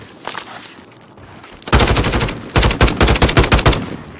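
Automatic gunfire in the video game Call of Duty Warzone, a couple of faint shots followed by loud, rapid bursts of machine-gun fire with short gaps between them, close and punchy.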